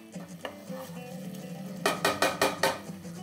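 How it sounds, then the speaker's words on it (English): Pasta fagioli soup ingredients simmering with wine are stirred in a pot, a soft bubbling bed that ends in a quick run of about six rhythmic spoon scrapes against the pot. "we keep stirring to incorporate all the ingredients together"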